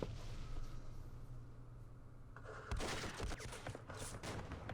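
A recoilless rifle fires in the Vietnam war game Campaign Series Vietnam: a single muffled blast lands partway through over a low rumbling battle ambience, followed by scattered crackling reports.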